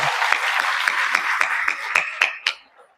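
A crowd at a talk claps in a fairly even rhythm of about ten distinct hand claps, which thin out and fade to quiet near the end.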